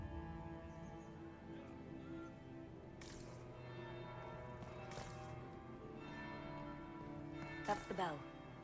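A church bell tolls in the video game Dragon Age: Inquisition, a ringing tone that sounds softly several times with a long, sustained decay, faint beneath the game's ambient hum.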